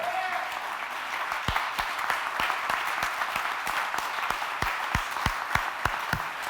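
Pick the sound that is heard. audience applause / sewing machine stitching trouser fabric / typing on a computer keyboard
audience applause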